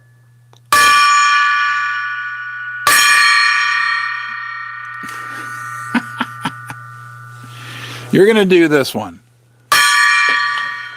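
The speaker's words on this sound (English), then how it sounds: "That's one ring of the gong for each 100 thumbs up." A gong is struck three times, each loud, ringing hit decaying slowly for a couple of seconds, with a voice speaking briefly between strikes and a steady low hum underneath.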